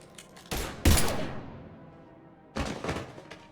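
Bursts of gunfire in the Mass Effect game, with a sharp volley, a heavy impact, a long decaying tail, then a second cluster of rapid shots, loud and close.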